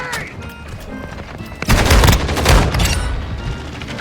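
Two loud gunshots from a Lockwood 300 double-barrel shotgun in a first-person shooter video game, two close, punchy blasts in quick succession over a busy battle background.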